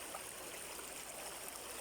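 Water from the fields runs in a steady stream across a crossing with no bridge, giving a soft, continuous trickling wash at low level with no voices.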